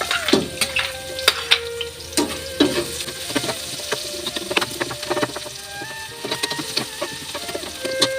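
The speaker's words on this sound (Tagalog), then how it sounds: "ay lalagay natin itong luya. Saka sibuyas." Ginger and onion sautéing in a pan for a mung bean dish with chayote and sweet potato leaves, a close sizzle with irregular clinks and scrapes of a utensil, fairly loud, with no talk.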